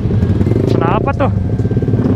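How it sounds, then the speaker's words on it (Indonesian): A motorcycle engine, a Honda CBR, rumbles loudly and continuously up close on a night ride, with a voice speaking briefly over the throbbing idle. "Tiba-tiba ngegeber gua."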